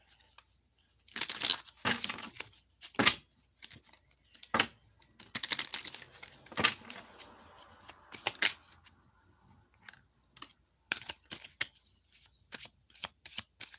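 A deck of tarot cards is shuffled in several quick bursts of riffling and flicking, close and crisp, separated by short quiet pauses.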